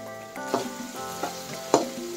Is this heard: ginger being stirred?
yes